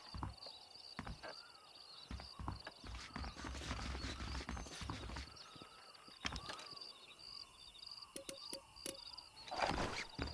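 Horse hooves clip-clop in the Western video game Red Dead Redemption, with irregular clopping steps at close range over an ambient outdoor bed and a few faint bird calls.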